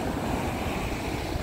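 Pacific Ocean surf breaking on the shore in Ilocos Sur, a steady loud wash of waves with wind buffeting the microphone, no voices.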